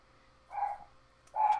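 Two short, muffled barks from a dog indoors, quiet and somewhat distant, separated by a brief pause over a faint background hum.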